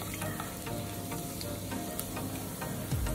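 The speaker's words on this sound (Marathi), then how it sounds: "तेल छान गरम झाल्यानंतर त्यामध्ये आपण मोहरी टाकूया, त्यानंतर जिरं।" Mustard seeds and cumin sizzling in hot oil in a pan, a dense continuous crackle and hiss with faint popping throughout, close and steady.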